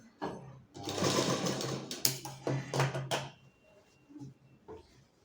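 A sewing machine tacking blouse fabric pieces together, its motor running in a close, steady whir for a few seconds with brief stops and restarts before falling quiet.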